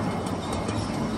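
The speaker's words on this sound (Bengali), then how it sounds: "ট্রেনের আওয়াজ কি" A running train gives a loud, close, continuous rumble and rush of noise, brief and steady with no talk.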